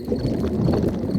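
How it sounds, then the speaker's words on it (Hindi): A cartoon stomach rumbles with a low, steady gurgling growl that fills the moment without any talking. "ये डैडी के पेट की आवाज है।"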